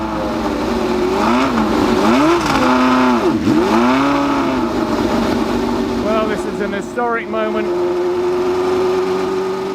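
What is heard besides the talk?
1969 McLaren M9A race car engine running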